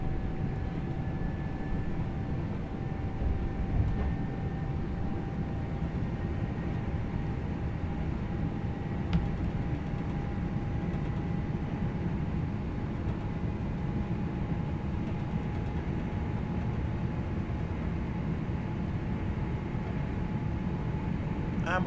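A train on the Glossop Line from Manchester to Hadfield in Train Sim World, speeding up to 60 mph: a steady, loud rumbling drone with a faint, slowly rising whine, continuous throughout.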